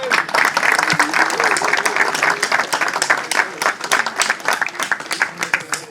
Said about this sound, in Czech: Už jde, potlesk, prosím.